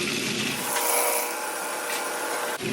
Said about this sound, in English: And then we're going to grind that up until it starts to form a fine meal.